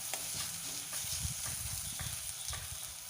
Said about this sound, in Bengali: জল দিয়ে কষলে পরে মশলাটা পুড়েও যাবে না, ভালোভাবে কষাটাও হয়ে যাবে।